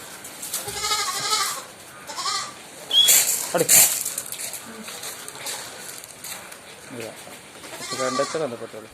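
Young goats bleat repeatedly in high, wavering cries, some close and loud, while a person talks over them.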